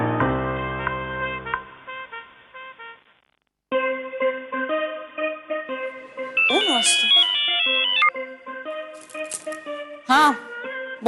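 A phone ringtone plays a repeating melodic tune of clear electronic tones, loud and close, pausing briefly before resuming with a busier pattern, with a few sliding chirps mixed in.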